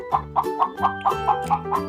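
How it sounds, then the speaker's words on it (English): A hen gives a quick run of about eight clucks in an even, bouncing rhythm, close and clear, with no one speaking over it. "Yes, it's a hen."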